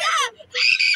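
A group of people scream on cue during a fairground ride, with two loud, shrill bursts separated by a brief pause.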